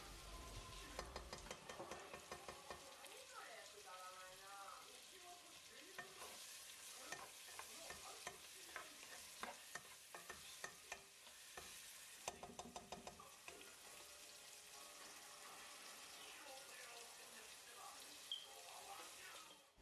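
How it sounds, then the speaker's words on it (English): Diced onions sizzle in hot oil for a mac and cheese, a steady, faint frying hiss with stirring and clinking throughout and running tap water near the start. "we're going to heat up some oil and add some diced onions, and we're going to leave the onions in there for a little bit just to sizzle."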